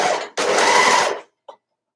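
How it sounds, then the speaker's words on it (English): An overlocker sewing machine stitches across gathered fabric in two close bursts, a short run followed by a longer whirring one, then stops with a faint click. "Now I'm sewing on my overlocker with the gathering facing up"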